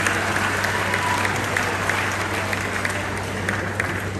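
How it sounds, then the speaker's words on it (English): An audience at a senior citizens' regional retreat claps together in a steady, dense round of applause, with a low constant hum beneath. "Wow, please clap for it."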